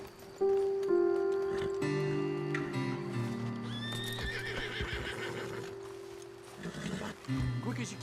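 Horses in Red Dead Redemption 2 whinny loudly and snort up close over a steady low ambient drone, with hoof clops and shuffling, and a second neigh near the end.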